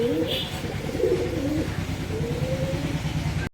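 Black Lakka pigeons coo in soft, repeated rolling calls close by, a steady low burbling that carries throughout the short stretch.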